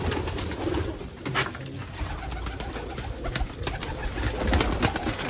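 Sialkoti rare chuhe pigeons coo close by in soft, repeated throaty calls over a rustling, busy background, with wing flutters and scattered knocks in between.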